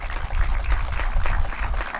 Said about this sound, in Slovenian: Nje morda posebno aplavz